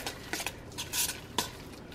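Food stirred in a pan with a utensil, soft close scraping and wet shuffling strokes over a light sizzle, a few quick clicks against the pan, no talking.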